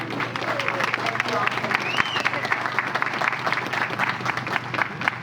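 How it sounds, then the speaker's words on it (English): A theatre audience applauds the cast after a performance, steady dense clapping filling the room with some crowd chatter mixed in throughout. "Let's give our cast a hand."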